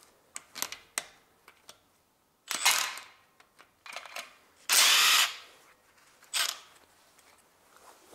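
Short bursts of a power tool or impact driver loosening 10 mm bolts on a 2006–2011 Honda Civic 1.8 engine during camshaft cover disassembly, several separate whirring spurts with clicks and handling noises between them, close and fairly loud.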